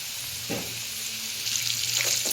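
Ingredients for Andhra-style uggani frying in a pan, a steady broadband sizzle running through the whole stretch, growing a little louder and busier in the second half with brief stirring or clinking touches.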